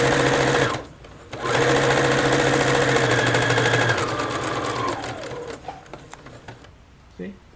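A sewing machine runs steadily and loudly, pauses briefly, then hums on at a changing pace before slowing near the end, fed from a cone-shaped thread spool on a DIY holder stand.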